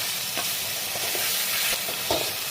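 Spice paste for a tangra fish curry sizzles in oil as it is stir-fried, a continuous close hiss broken by occasional scraping stirs, with no talking.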